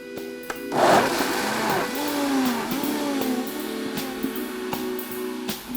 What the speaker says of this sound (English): Could I have the blender?